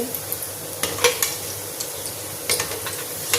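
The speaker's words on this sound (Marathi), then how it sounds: "एकदम कमी गॅसमध्ये पलटून असे तळायचे" Coconut snack frying in oil over a low flame, a soft steady sizzle with light crackles and occasional sharp ticks as pieces are stirred and turned.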